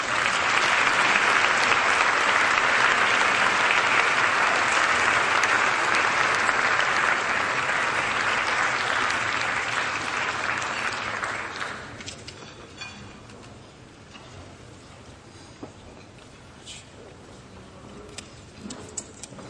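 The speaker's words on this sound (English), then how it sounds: "Let's give him a round of applause and thanks." Audience at a congressional gala applauding an award acceptance: a full, steady burst of clapping for about twelve seconds that quickly dies away, leaving a quiet room with faint scattered sounds.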